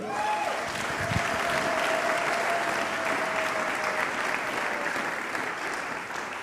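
A church congregation bursts into sustained applause acclaiming the Lord, a dense, steady clapping crowd lasting several seconds at even loudness, with a faint tone drifting through the background.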